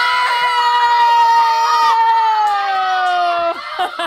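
A young girl screams excitedly, one long, loud, high-pitched wavering cry that slowly falls in pitch and stays close before cutting off.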